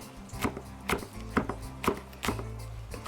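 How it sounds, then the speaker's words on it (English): Tomatoes, onion and green onion being chopped on a board for chicken biryani, about six sharp knife strikes in an uneven rhythm, close and alone. "Time to cut up my tomatoes and my onion and green onion"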